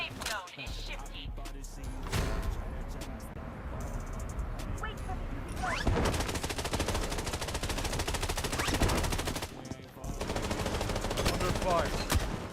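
Rapid bursts of automatic gunfire from the PC video game Bloodstrike crackle almost continuously, loud and close, with brief lulls near the start and around the ten-second mark, and a voice occasionally heard over the shooting.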